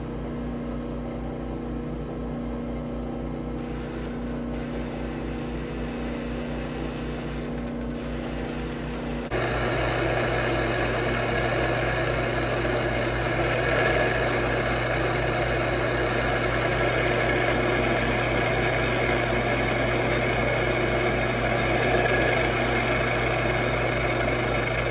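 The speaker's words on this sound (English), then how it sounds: "There you can see the bevel cut on that nut I just did in the lathe." A metal lathe cutting a bevel on a nut runs as a steady, loud mechanical drone and hum, which shifts to a fuller, rougher tone partway through and then holds continuously to the end.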